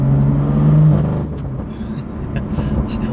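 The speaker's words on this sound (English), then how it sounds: "Still sounds good though, man, that N55" A BMW F87 M2 with its N55 engine and exhaust valves open rumbles with a low, steady drone on a rainy day, loud and close and then slightly easing.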